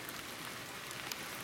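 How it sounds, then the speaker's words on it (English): Rain mixed with sleet falls steadily outside on a night of flintknapping, a dense, even patter of drops striking surfaces close by, continuous and alone with no voices. "Just started raining and sleeting out."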